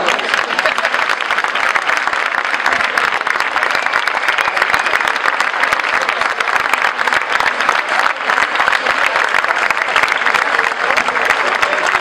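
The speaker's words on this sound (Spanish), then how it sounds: "les tenemos que recibir con un fuerte aplauso" Loud, dense applause from a large audience in a town plaza at a folk festival night, continuous clapping that holds steady throughout without pause.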